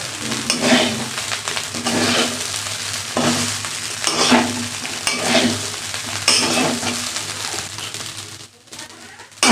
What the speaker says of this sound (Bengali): দেখো ভাজা হচ্ছে, যে আওয়াজ হচ্ছে।